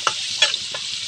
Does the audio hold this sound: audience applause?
no